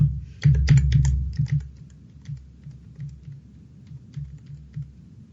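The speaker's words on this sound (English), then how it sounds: "I'm just typing it in, just like anybody else." Rapid bursts of keystrokes on a computer keyboard, first a busy flurry of clicks and then sparser, uneven taps, close and clear with no voices.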